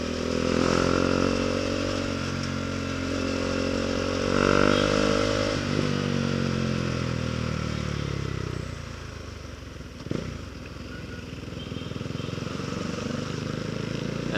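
Motorcycle engines drone and rev steadily nearby in city traffic, with one passing and fading, over a continuous busy traffic rumble; a short clank sounds partway through.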